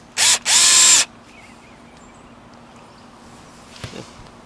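A power drill drives lag bolts into a roof while mounting solar panels: two loud, close whirring bursts within the first second, then near-quiet with a faint knock afterward.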